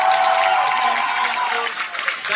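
Audience applause at the Armageddon special effects show at Disneyland Paris, a steady wash of clapping heard under a presenter speaking over the crowd.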